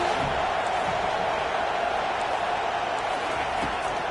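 A home crowd roars steadily at a college football game on third down, a dense, continuous wall of crowd noise with no breaks.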